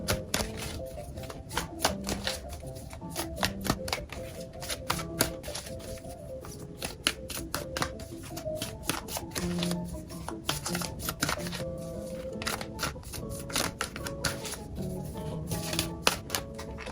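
Oracle cards are shuffled by hand in a deck, giving a steady run of soft, rapid riffling and slapping taps throughout, close and fairly quiet with no talking.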